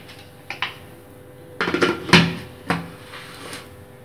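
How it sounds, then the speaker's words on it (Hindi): The lid of a pressure cooker holding rice kheer is set in place with a few close metallic clatters and knocks, a cluster of louder clanks in the middle and lighter taps either side, with no voices. "अब हम कुकर का ढक्कन लगा देंगे"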